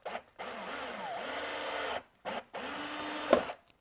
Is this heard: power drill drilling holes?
yes